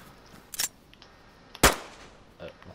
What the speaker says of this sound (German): Ich dachte, was ist das für ein Schuss?